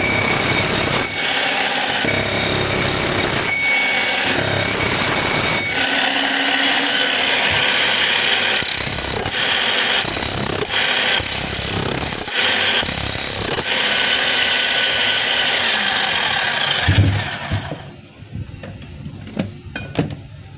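A DeWalt D25901 10 kg demolition jackhammer, worn at the spindle, runs loud and continuously with a harsh rapid hammering and rattling roar for about seventeen seconds before winding down into quieter clatter.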